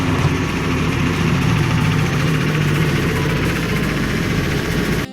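A heavy engine rumbles and idles steadily, a continuous low drone with mechanical vibration, close and loud, ending abruptly.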